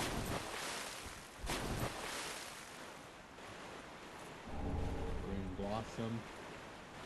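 Steady rushing water currents at the Distant Manor in Dark Souls 3 form a continuous wash, swelling louder near the end while someone talks over it.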